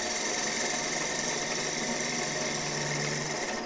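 A woodturning gouge cuts a spinning workpiece on a lathe for a lidded piece, giving a steady, continuous hissing scrape over a motor hum, close and fairly loud with no break throughout.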